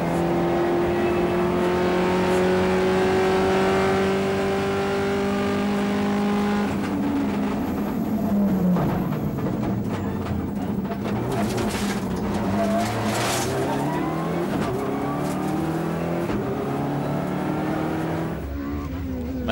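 A Volkswagen Golf GTI rally car races on dry roads in a round of the Danish rally championship, its engine revving hard and shifting pitch through the gears, loud and sustained, with a second car's engine mixed in.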